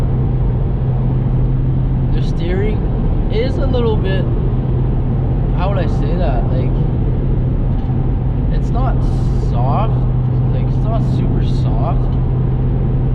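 Inside an 8th-generation Honda Accord being driven, a steady low engine and road rumble fills the cabin throughout while a person talks over it intermittently.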